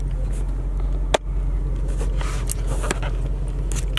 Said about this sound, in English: I think we should go on a drive together.